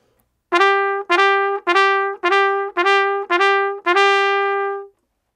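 Solo trumpet playing a short blues phrase with grace notes: seven clear, sustained notes in a steady rhythm, the last held longer, close and alone with no talking.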